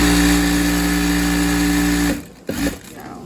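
A KANSUN LT-9100D computerized straight-stitch industrial sewing machine runs at high speed in a loud, steady whir for about two seconds, then stops abruptly, leaving a brief quiet stretch with faint handling noises.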